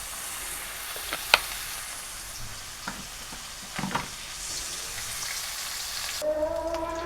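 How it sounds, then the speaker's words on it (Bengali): Cabbage curry ingredients frying in oil in a home kitchen, a steady soft sizzle with a few sharp clinks of utensil stirring, and brighter spitting crackle near the end. "এখানে তেল দিয়ে একটু ভেজে নিব।"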